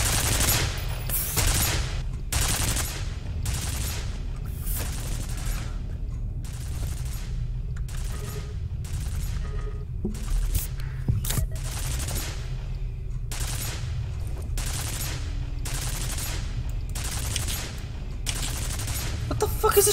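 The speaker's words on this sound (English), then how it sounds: "What the fuck is it shooting at?" Enemy gunfire in the first-person shooter F.E.A.R., repeated bursts of automatic fire and single loud shots cracking at irregular intervals over a steady low rumble.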